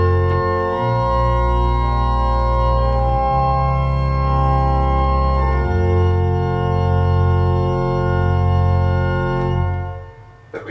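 A Hauptwerk virtual pipe organ plays with several extra stops pulled, a loud, full sustained sound with strong deep bass and chords changing a few times, close and with no talk, fading at the end.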